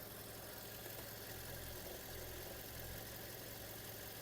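A Volkswagen Touran's 1.6 MPI engine idles steadily with a low, even rumble and faint mechanical hum, no voices, constant throughout.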